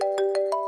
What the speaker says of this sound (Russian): Так, Петров, тебе что, Путин звонит?